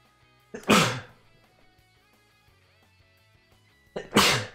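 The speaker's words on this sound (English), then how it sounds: "I'm sneezing so much." Two loud sneezes separated by a few seconds of quiet, each a sharp breathy burst.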